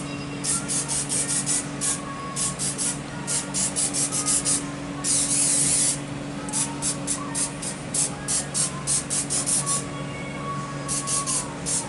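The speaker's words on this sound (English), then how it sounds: "oops, sprayed this wire harness" Aerosol spray is applied to a wire harness on a BMW F30 335i during a hitch install. It comes as a string of short, sharp hissing bursts in a quick rhythm, with one longer spray in the middle, close to the mic and without speech.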